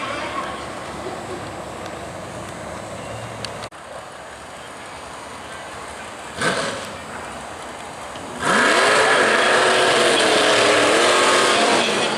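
A drag racing car makes a solo pass down the left lane at a raceway: steady engine roar with a brief surge, then a loud, close, harsh blast of revving engine rising and falling in pitch near the end.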